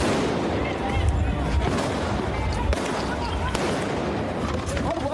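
Firecrackers explode again and again during a street protest in ruined Beirut, with sharp bangs over a dense roar of crowd noise and shouting voices.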